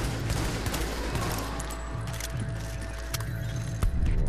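Rapid bursts of automatic gunfire crackle through a firefight in The Division's Lexington Event Center mission, sharp cracks scattered over a steady background hum.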